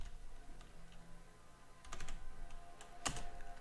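Typing on a computer keyboard during game development work, quiet scattered key clicks with a few sharper taps, close by and steady beneath a faint room hum, with no talking.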